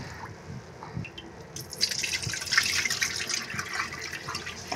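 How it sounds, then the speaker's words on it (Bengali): Lentils rinsed in water, with soft drips and splashes at first, then a louder, steady run of pouring and sloshing water close by, and no talking. "তো ডালটা ধুয়ে নিলাম"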